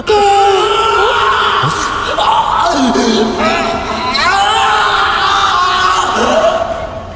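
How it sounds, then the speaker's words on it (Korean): A scream rings out in an anime scene, several loud wavering vocal cries and wails overlapping with other voices in a busy, echoing space for about seven seconds. "그런데 그때 어디선가 들려오는 비명소리."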